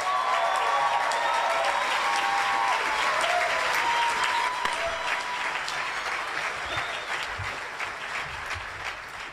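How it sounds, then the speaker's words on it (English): An audience at a conference applauds, a dense sustained clapping of many hands that starts full and slowly tapers, with a few faint voices in the crowd. "So let's give them a round of applause."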